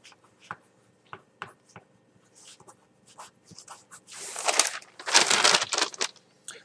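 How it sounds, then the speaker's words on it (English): Writing by hand on paper: scattered close taps and strokes give way to longer rustling, scratching passages that grow louder toward the end, with no voices. "I want to write this down."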